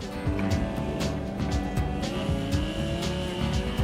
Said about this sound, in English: there's a lot of trucks in Central Florida that like to play in the mud